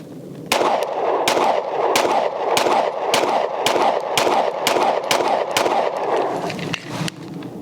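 Ten or so sharp 124-grain pistol shots from a Glock 43X MOS fitted with an ARC Reactor slide and TLR7 sub light, fired at a steady, fairly quick pace, loud and close with ringing reports.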